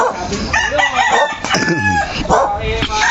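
A rooster crows loudly and close by in a long, wavering call, followed by further crows and clucking fowl, with people talking nearby.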